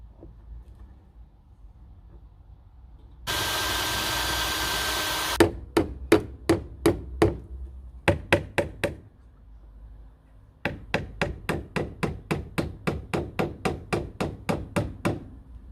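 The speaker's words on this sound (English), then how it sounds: "Better get the jigsaw out." A jigsaw cuts wooden skirting for a kitchen worktop in a loud, close burst of about two seconds. Sharp hammer-like knocks follow in fast, evenly spaced runs.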